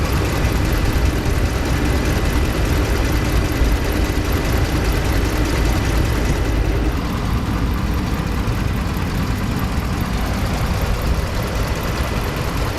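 A Ram pickup's 5.7 HEMI V8 idles with a tick, a slight misfire and a rough shake. It gives a steady, loud, close drone with no talk.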